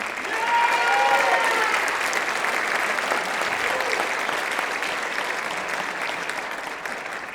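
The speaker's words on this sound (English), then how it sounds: "Give them a round of applause, please." An audience at a school region band concert gives sustained applause for the band directors, a broad, even roar of many hands that swells early and slowly fades, with a few faint voices and whistles mixed in.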